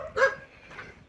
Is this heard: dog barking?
yes